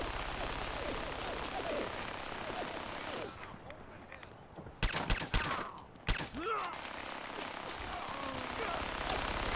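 Companion Nick fires rapid bursts of gunfire in a foggy Fallout 4 Far Harbor fight, dense crackling volleys up close with a brief lull before clustered shots and renewed firing.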